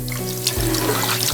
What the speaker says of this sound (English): Let's turn on our water.